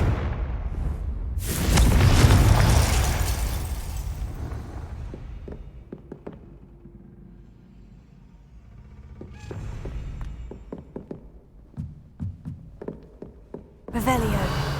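In Hogwarts Legacy, the Confringo fire spell bursts into a loud, booming explosion with a rumbling tail, followed by scattered clicks and thuds and another burst near the end.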